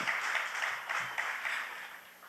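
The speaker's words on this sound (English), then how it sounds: "Another round of applause for Ms. Chapman." Graduating-class audience at a sixth form ceremony on Nevis applauds Ms. Chapman, a steady wash of clapping from many hands in a hall, moderately loud and sustained for a couple of seconds before tapering off.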